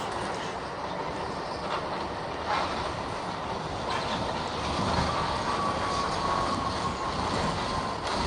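Steady rumble inside a moving train carriage, with continuous wheel and track noise and faint rattles throughout.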